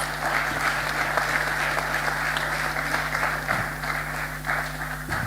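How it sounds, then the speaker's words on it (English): Audience applause at a conference closing ceremony, a sustained wash of many hands clapping with a faint electrical hum beneath it. "You deserve a round of applause."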